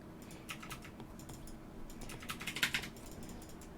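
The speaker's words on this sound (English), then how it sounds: "if you're curious on the typing sound, that is my lovely partner. He is playing League of Legends." Quick, uneven bursts of computer keyboard typing from someone playing League of Legends, soft and slightly distant, with a denser flurry of clicks near the end and no talk.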